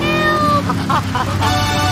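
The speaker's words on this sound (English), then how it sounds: "Rescue a cat out of that tree with your banana cannon, Pogo" A cat meows once, briefly and close, in the game Grand Theft Auto III, set against a steady tonal music background.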